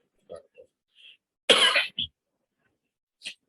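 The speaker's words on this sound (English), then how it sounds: "Sorry for the cough." A single harsh, loud cough bursts out close by, preceded by soft breathy murmurs and followed by a brief throat sound.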